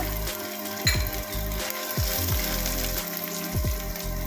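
Garlic and ginger frying in oil in a pan for tomato chutney, a close, steady hiss with a low mechanical rattle repeating about once a second underneath.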